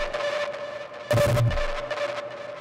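A single short, deep hardstyle kick drum synthesized from a sine wave thumps once over a faint steady hum and soft pulsing electronic tones, brief and alone.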